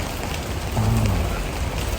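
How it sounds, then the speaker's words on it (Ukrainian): Steady rain falls in the Lviv region, a dense even hiss of drops on surfaces, close and continuous with no speech over it. "Дощ."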